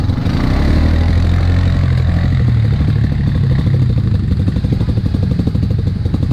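An ATV engine revs hard at full throttle at an off-road ATV park, a loud, continuous low engine roar with steady rumble and rattling clatter throughout.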